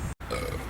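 A loud, drawn-out belch fills nearly the whole moment alone, broken only by a split-second gap near its start before rumbling on to the end.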